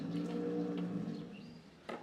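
A single cow at a dairy farm selling cattle for Qurbani lets out a low, drawn-out moo that fades after about a second, followed by quiet background sounds.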